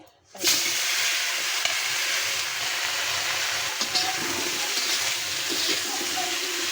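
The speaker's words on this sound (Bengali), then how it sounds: "তো কচুগুলোতে আমি একটু নুন হলুদ দিয়ে কচুগুলো একটু ভেজে দিব।" Pieces of taro seasoned with salt and turmeric hitting hot oil, a sudden loud sizzle that settles into a steady, bubbling hiss of frying, close up and uninterrupted.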